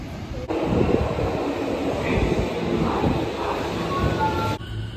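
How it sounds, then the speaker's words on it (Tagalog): A train passes in Tokyo near Shin-Okubo, a broad steady rumble and rush of rail noise heard close, with wind buffeting the microphone. "Yan yung train ba?"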